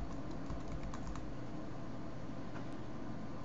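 Quick keystrokes on a computer keyboard, a steady run of soft, close clicks over a faint constant background hum, with no voice.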